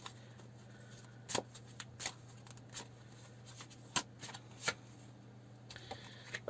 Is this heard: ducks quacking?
no